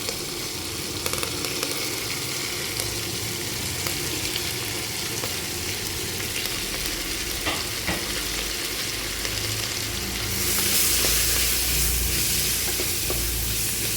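Onions and curry leaves sizzle steadily in a pan with chicken curry on the way, a close, even frying hiss that grows slightly brighter toward the end, and no voices.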